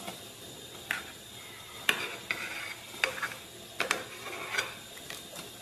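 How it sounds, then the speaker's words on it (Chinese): Foam is skimmed off simmering broth in a pot. A ladle scrapes and taps against the pot in short, repeated clicks about once a second, over a soft bubbling hiss, with no talk. "咱们把这个浮沫给它打一下"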